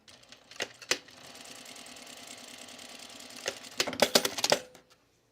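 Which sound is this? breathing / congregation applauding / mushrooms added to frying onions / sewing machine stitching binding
sewing machine stitching binding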